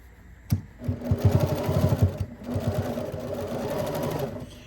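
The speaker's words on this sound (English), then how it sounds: "All right, let's sew this and get moving." A sewing machine stitches a self-lining fabric bag sewn from one piece of fabric. Its steady, close mechanical hum and rapid needle chatter run in two stretches with a brief pause between them.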